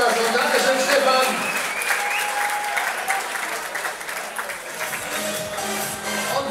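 Audience at a Thai boxing and K1 boxing gala applauds steadily, a dense, sustained clapping that fills the hall at a fairly even level throughout.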